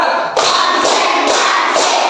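A group claps in sharp unison during a counting clap routine, several distinct loud claps spaced about half a second apart, close and clear with no talking.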